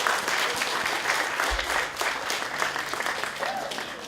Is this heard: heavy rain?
no